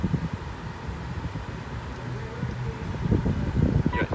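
The air conditioning fan of a 2020 Mitsubishi Triton GLX-R runs with a steady airy whoosh inside the cabin, constant and moderately loud, with some low rumbling and faint clicks.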